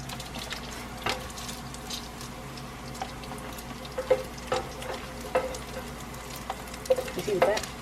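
Sausage sizzles in bacon fat in a pot with a constant low crackle, punctuated by scattered knocks and clinks of a spoon against the pot, busier near the end.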